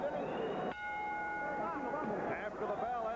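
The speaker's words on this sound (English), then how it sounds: "After the bell ending round 4, late barrage, late hits by both Camacho and Williams" A boxing bell rings out to end the fourth round of a Hector Camacho versus Rafael Williams fight, a single sustained ringing tone under steady arena crowd noise and commentary.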